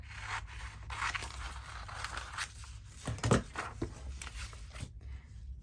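Scissors cut a paper piece out for a papercraft project: quiet, close snipping and rustling of paper with one louder crunching cut midway, no talking.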